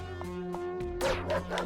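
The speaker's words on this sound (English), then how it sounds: "Oh, that stupid dog." A dog in the video game Paradox Soul lets out several quick, sharp barks and yips at close range over a steady game soundscape, with the last barks louder and rougher than the first.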